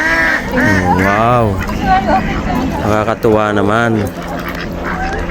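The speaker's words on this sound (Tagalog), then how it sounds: "Ayun, may itim na pato." Ducks honking and quacking near a waterside spot in Khorfakkan, Sharjah, with a black duck among them, repeated nasal calls close by while a person talks over them.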